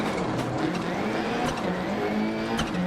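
Rally car in Dirt Rally 2.0 swinging through a handbrake turn after a jump, engine droning steadily with gravel skid and tyre scrub running continuously, close and fairly loud with no talking.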